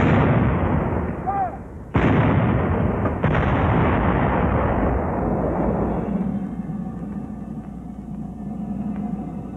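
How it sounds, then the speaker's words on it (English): A WWII howitzer fires high-explosive shells, with a loud, booming report followed by a second blast that rolls off into a long, fading rumble. "Here are the two whoppers the howitzer pounds out."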